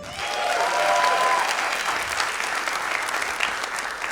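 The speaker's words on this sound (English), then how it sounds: "Y'all clap it up for that." Comedy club audience applauding, a dense, steady burst of clapping filling the room for about four seconds, with a few voices calling out near the start.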